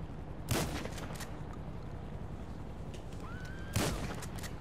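Two isolated loud gunshots ring out in a video game several seconds apart over a steady background hum, with no talk.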